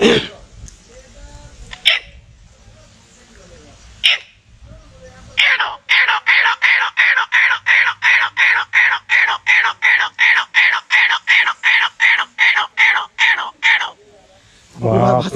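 A voice imitates the call of a grey partridge: a rapid run of about two dozen loud, harsh, evenly spaced notes, close to the listener, with brief speech and throat noises before and after.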